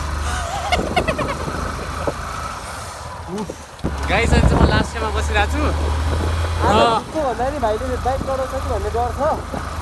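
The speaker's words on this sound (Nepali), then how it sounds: "आज बाइक चलाइराख्नु भएको छ" A motorcycle ridden by a learner on a cold night run, its engine a low steady drone that briefly swells midway, under almost continuous talk from a man.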